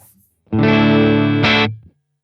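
Electric guitar played wirelessly through a Boss Katana Air amplifier via a wireless transmitter, a loud sustained distorted chord with effects that rings for about a second, then a brighter burst before cutting off.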